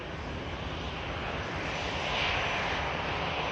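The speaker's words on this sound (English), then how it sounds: "This is EasyJet A320 off from Bordeaux in France," EasyJet Airbus A320 airliner departing Bordeaux, France, its engines giving a steady, loud broadband roar that builds slightly toward the end, heard alone with no talk.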